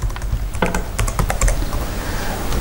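Keys clatter on a computer keyboard in quick, uneven bursts of close taps, loud and distinct, with a short pause partway through and no voices.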